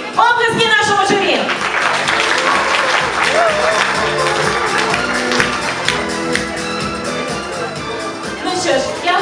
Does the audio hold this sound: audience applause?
yes